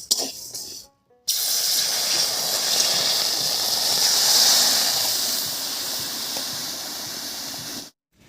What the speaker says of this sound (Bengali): এবার জল দিয়ে দিচ্ছি